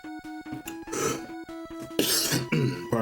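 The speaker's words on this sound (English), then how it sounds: "Pardon me, I'm coughing all the time." A few harsh coughs and throat-clearing sounds, close to the mic, broken up by short vocal noises.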